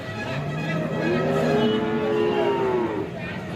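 A cow at a busy cattle market in Alephata, Maharashtra, gives one long, drawn-out moo that rises and falls over a steady crowd murmur, fairly near and loud.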